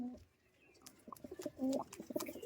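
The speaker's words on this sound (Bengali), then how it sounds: "নর্মাদা জোড়া রেগদার পায়রা" Giribaz pigeons at a Murshidabad pigeon market give soft, low cooing calls close by, brief repeated coos over a faint background with a few clicks and rustles.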